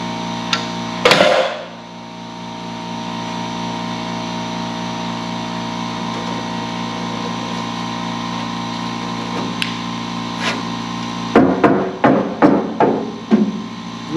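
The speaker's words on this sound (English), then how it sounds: "Just a little bit of drilling out the welds, little air hammer, she's gone." Drilling out spot welds and an air hammer working on the torque box and rocker extension of a Pontiac Firebird body: a long, steady mechanical drone, then a quick burst of sharp, closely spaced hammer blows near the end.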